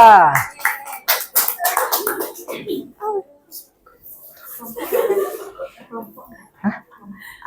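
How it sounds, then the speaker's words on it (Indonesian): In a classroom during a religion lesson, a burst of quick hand clapping from a group rings out near the start and soon fades, followed by people talking and chuckling. "Tepuk tangan kepada Pramita."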